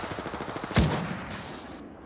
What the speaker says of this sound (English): Opening fire on our prey.